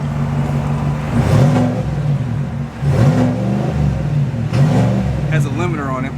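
A 2025 GMC Sierra Denali 1500 engine revving in sport mode: three distinct rev bursts rise and fall over a steady idle, loud and close, with a voice speaking briefly at the end.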